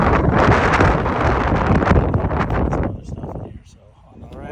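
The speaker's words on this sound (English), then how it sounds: "Man, it is so windy out here" Strong wind buffets the microphone in an open field, loud rumbling gusts that dominate for about three seconds before dropping away, while a person talks.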